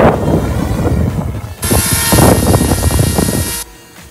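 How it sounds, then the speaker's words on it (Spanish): A small camera drone flies overhead shooting promotional aerial footage in Phoenix, Arizona, its buzzing whir suddenly rising loud and steady for about two seconds over a rumbling windy background before cutting off. "Oigan ese ruido porque tenemos aquí un dron."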